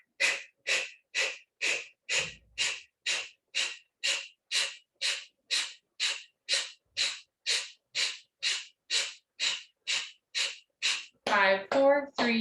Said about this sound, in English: exhaling through the mouth, Kapalabhati breathing